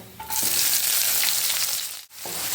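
Finely chopped medium onion hits hot oil already holding cardamom and bay leaf, and a loud sizzle bursts up and hisses steadily, dipping briefly before resuming.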